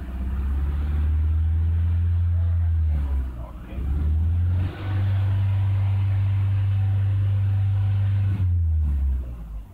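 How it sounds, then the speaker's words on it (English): A Chevrolet Aveo with low power issues revved by hand: a loud, steady engine drone that briefly drops and returns a couple of times, holding near and constant throughout. "I'm going to rev it up a bit and see."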